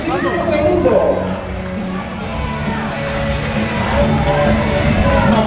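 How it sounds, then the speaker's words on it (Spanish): Outdoor crowd at a popular running race in Torrecampo cheers and claps for a runner crossing the finish line, a steady loud wash of voices and whoops with announcer talk mixed in. "Un aplauso para Delani El Moacir"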